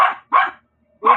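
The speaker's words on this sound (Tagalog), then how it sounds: "Tumatawag yung aso ko." A dog gives three sharp, close barks in quick succession, loud and clear with short gaps between them.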